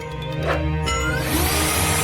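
A power drill drives screws into wooden bed boards, its motor whining steadily and fairly loud with shifting pitch as the screw bites.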